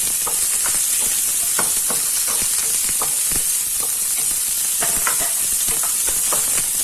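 Garlic frying in a hot pan for a Thai holy basil crispy pork dish, a loud continuous sizzle broken by repeated scraping stir strokes, with no talking.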